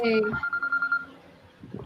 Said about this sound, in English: I have an alarm set on my phone to go off every hour to remind me to get up and move around.